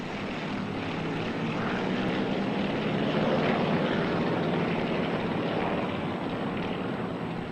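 Yak aircraft of the Aerostars display team fly past at a seaside carnival airshow, producing a steady, broad propeller engine drone that holds at moderate loudness across the clip with no voices.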